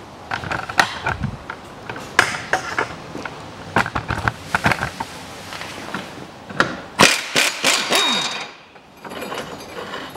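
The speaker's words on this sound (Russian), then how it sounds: "Тогда я откручиваю его полностью." A bolt is unscrewed during clutch replacement on a 2011 Chevrolet Cruze 1.8, heard as close, loud metallic ratcheting, creaks and knocks in uneven bursts, with a brief quieter stretch near the end.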